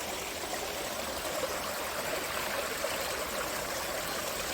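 Water flowing in a stream past a broken dam, a steady soft broadband rush and trickle, moderately close and uninterrupted.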